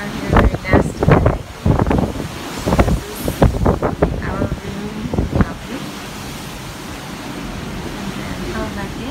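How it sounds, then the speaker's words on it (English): Strong wind gusts across a cruise ship balcony on Royal Caribbean's Liberty of the Seas, a steady close rushing buffet under a person talking throughout. "it's very windy out here"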